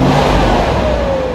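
A 2004 Chevy Trailblazer with a 5.3 L V8 revs steadily, giving a continuous, fairly loud close-up engine rumble with a rising whine and no speech.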